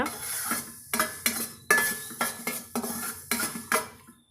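A utensil scrapes and clatters rhythmically against a metal pan, roughly eight strokes, with a faint sizzle underneath as ingredients for citron pickle fry.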